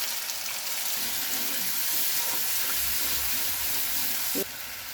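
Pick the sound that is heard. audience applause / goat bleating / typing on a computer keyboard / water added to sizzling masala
water added to sizzling masala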